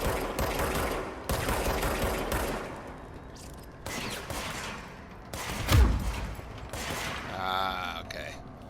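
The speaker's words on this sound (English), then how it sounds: "someone shooting at me?" Gunfire in the video game Control, with bursts of shots and sharp impacts among mechanical clanks, loud and near, with quieter stretches between volleys.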